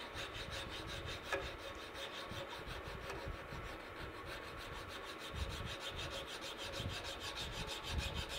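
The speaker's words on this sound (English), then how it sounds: "I'm just going to kind of trim the wood down" A file rasps across the wooden handle of a handmade knife, shaping it down with a quiet, continuous rubbing scrape and occasional faint knocks, close by.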